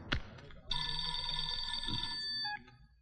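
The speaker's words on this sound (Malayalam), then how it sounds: "ആ സാർ സാർ ഫോൺ" A telephone bell rings steadily for about two seconds in an indoor police office setting, loud and continuous after a brief knock-like sound at the start, then stops abruptly.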